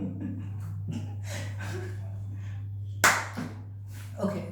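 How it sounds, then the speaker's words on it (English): One sharp, close hand clap lands midway through, bright and brief against a steady hum, with someone speaking before and after it. "Do a clap."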